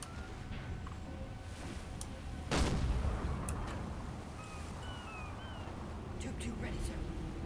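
Gunfire in the naval game Silent Hunter 4 arrives as one heavy, loud boom partway through, standing out against a quiet low rumble, with faint chirping calls afterward.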